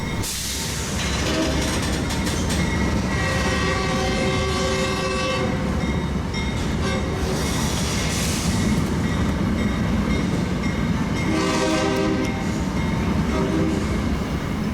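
A Tri-Rail train horn sounds in long tonal blasts from some distance, rising over the steady rumble and clatter of passing rock hopper cars.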